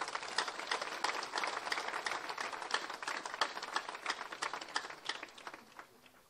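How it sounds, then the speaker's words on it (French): Sustained applause from a crowd honoring the parish community at a diocesan pilgrimage in Mont-Rolland: dense, steady clapping for about six seconds that tapers slightly at the end. "applaudissez pour la communauté paroissiale"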